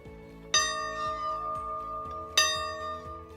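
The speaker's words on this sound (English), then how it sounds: "So this is our dinner bell." A dinner bell at a farm wedding venue rings twice with bright, sustained metallic strikes spaced about two seconds apart, each clang ringing out and decaying slowly over a faint rhythmic low thumping.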